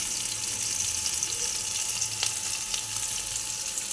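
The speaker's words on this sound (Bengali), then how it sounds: "দেখুন, ফুলকপিটা ভাজা ভাজা হয়ে গেছে।" Cauliflower florets frying in hot oil in a wok, giving a steady, dense sizzle that holds level throughout with a few sharper pops and crackles near the end.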